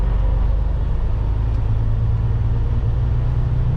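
A truck engine rumbling steadily in the cab while the driver double clutches up into a higher gear on a road, a low, even drone with no clear break, heard from inside.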